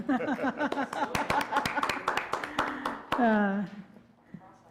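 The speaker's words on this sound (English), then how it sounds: "We should applaud for that one." Attendees at a city council meeting give brief, scattered applause of a few claps, heard under people talking and laughing nearby.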